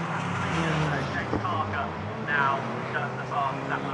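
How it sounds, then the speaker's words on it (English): Italian race cars, including a Ferrari and TCR touring cars, roar on a circuit as they downshift, a loud continuous engine drone with revving swells, heard from a trackside vantage point under crowd and commentary chatter. "Come up here to the top, just so you can hear these beasts downshifting. They sound insane. It's so loud."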